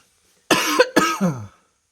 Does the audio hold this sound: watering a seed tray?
no